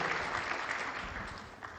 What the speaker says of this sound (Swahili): Tuwapigie makofi jamani, viongozi wote.